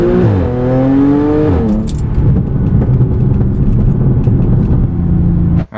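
A car with its mufflers removed drives past, its exhaust rising through the gears in a loud close roar, then settling into a steady rumbling drone before cutting off at the end.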